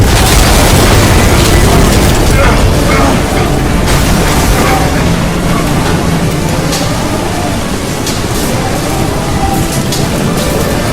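A torpedo strike on a ship in the video game Crysis 2 brings a massive, sustained rumbling explosion with crashing debris and metallic groans, loud and continuous throughout.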